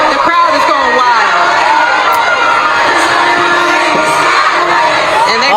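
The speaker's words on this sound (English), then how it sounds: "The crowd is going crazy for her" A crowd at a boxing match cheers and shouts wildly in a loud, continuous roar with whoops and raised voices throughout.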